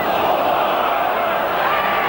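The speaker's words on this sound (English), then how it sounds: "The crowd all claiming that the pass was forward." Rugby league crowd at a Hull versus Australia match roaring in protest over a forward pass, a steady loud wash of massed voices.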